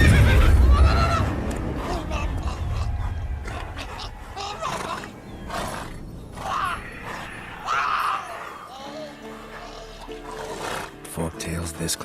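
A horse neighs and whinnies in The Witcher 3 game, its calls rising over wild-animal roars and ambient game sounds, with someone speaking in the scene.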